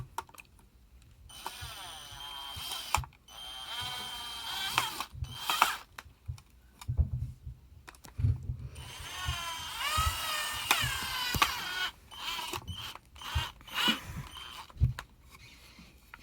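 A screw is driven during assembly of a cup turner, giving bursts of whirring, ratcheting drill-driver noise separated by clicks, handling clatter and pauses, close and moderately loud.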